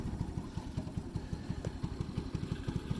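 A cold Ice Bear mini jeep's small engine idling after sitting unstarted, a close, steady, rapid putt-putt thumping rhythm with a slight clatter, no talking.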